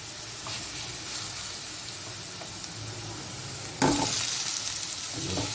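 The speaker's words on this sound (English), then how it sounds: "I'm just going to add the potatoes." Potatoes tumble into a hot pan of spiced mix with a sudden burst of sizzling that continues as steady frying and stirring, close up and without talk.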